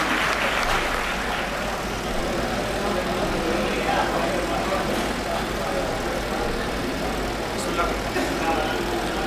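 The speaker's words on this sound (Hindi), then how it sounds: "जोरदार तालियों से इस्तकबाल कीजिए अनीस मंसूरी का" Applause welcoming a speaker at a Pasmanda Muslim Samaj district conference in Sultanpur, heard as a dense, continuous wash of crowd clapping mixed with hall noise, steady and unbroken throughout.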